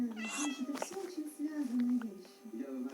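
A cat in the video game Minecraft meows in several close, clear calls, heard alongside talking.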